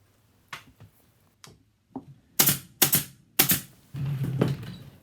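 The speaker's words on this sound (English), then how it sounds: "So we start by stapling front, back, side, and side." A staple gun fires staples through upholstery fabric onto a dining chair seat: a handful of sharp, snapping clacks at uneven intervals, close by, with a few softer taps and a brief rustle between shots.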